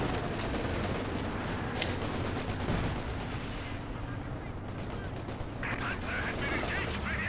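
In Company of Heroes 2, rifle and machine-gun fire mixes with the heavier thuds of anti-tank gun shots during a match, a dense, busy clatter with a voice faintly commentating underneath.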